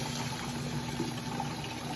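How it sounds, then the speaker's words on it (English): Water flows steadily into a container in a siphon setup, a soft, constant trickle with no pauses. "Gotta keep the water going into here"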